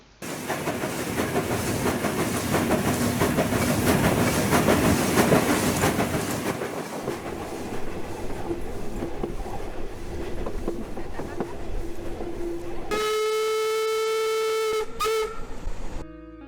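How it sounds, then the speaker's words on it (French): Baie de Somme tourist train running from Le Crotoy toward Noyelles. A loud, close rumble of wheels clacking over rail joints fades to a steadier rolling sound, then a long, sustained horn blast sounds near the end. "le train venant du Crotoy poursuit sa route vers Noyelles"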